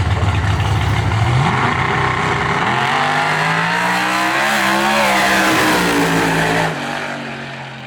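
A street car makes a fast 1/8 mile drag pass at Street Car Takeover Houston 2020. The engine roars loud and near, climbing steadily through the gears, and stays loud for the whole run before it eases off at the end.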